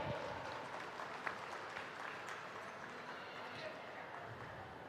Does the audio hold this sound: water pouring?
no